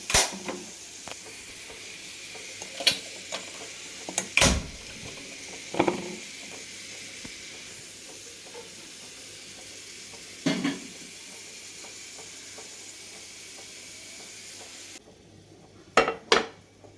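Stuffed brinjal (eggplant) stuffed with onion spice paste fries in a pan with a steady low sizzle. A few sharp clinks and scrapes of a utensil against the pan break through now and then.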